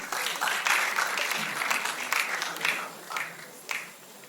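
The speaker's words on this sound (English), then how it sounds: "a round of applause for yourselves" Audience at a comedy special applauding, a fairly close, uneven burst of clapping that swells early and thins out with a few scattered claps near the end, with some voices mixed in.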